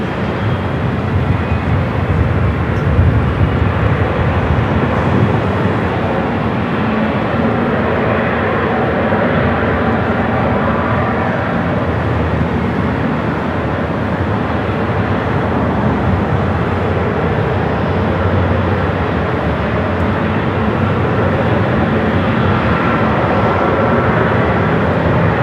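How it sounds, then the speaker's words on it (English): Airliner with GE90 jet engines at LAX airport, a steady loud broadband roar that holds constant throughout with no talking. "Listen to those GE90s."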